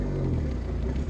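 Fiat X1/9 pulling away from a stop in first gear, with a steady mid-pitched engine drone and low rumble close by, rising slightly as the car moves off.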